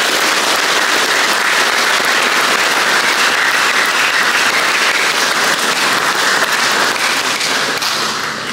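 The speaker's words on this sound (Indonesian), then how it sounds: "mari kita berikan tepuk tangan yang meriah kepada semua kita yang" A seminar audience gives loud, sustained applause, a thick crackling wall of many hands clapping close up throughout, with no talk over it.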